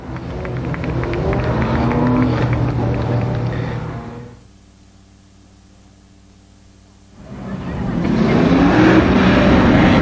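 Race cars roar past close by on the track at Columbus Motor Speedway, a loud rumbling pass that fades to near silence before another loud pass swells back in.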